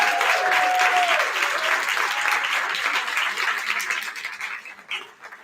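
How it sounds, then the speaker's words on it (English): An audience at a talk by an NFL great and a motivational speaker gives a round of applause, steady, full clapping that slowly thins and fades toward the end. "Y'all give him another round of applause"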